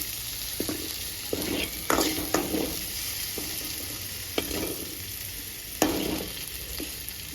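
Ingredients for mango roti pachadi fry lightly in a pan with a constant gentle sizzle. Occasional sharp scrapes and taps of a stirring utensil come through clearly at close range.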